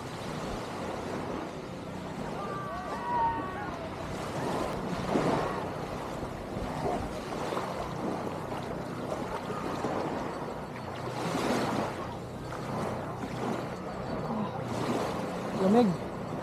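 Steady wash of ocean waves with wind buffeting the microphone, a continuous roar swelling now and then, with faint voices in the background.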